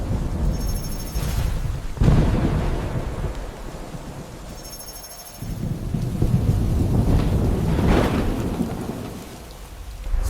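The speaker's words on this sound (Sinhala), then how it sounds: "අර බලන්න වහිනවා" Heavy rain pours steadily on surfaces while loud thunder rumbles roll in twice, the downpour swelling and easing in between.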